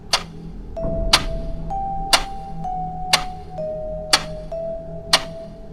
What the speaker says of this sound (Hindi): सिर्फ घड़ी के सेकंड की आवाज